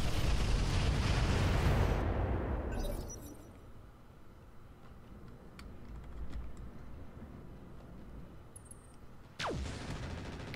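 In the Roguepoint video game, a turret fires with a heavy blast that dies into a long rumbling decay, followed by faint scattered impacts and then a second abrupt, sharp shot near the end.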